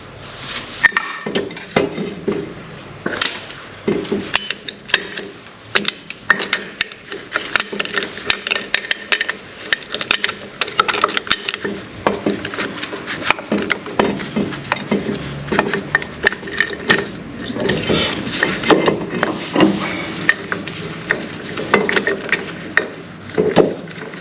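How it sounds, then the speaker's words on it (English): A brake caliper piston on an Infiniti G37 is pushed back with a compression tool, producing a long run of repeated ratcheting clicks and metallic clatter at an irregular pace, close and alone. "Now let's compress this caliper right quick."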